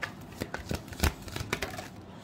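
Tarot cards shuffled during a reading, a series of soft, close riffling snaps and slaps in an irregular rhythm, fairly quiet and heard alone.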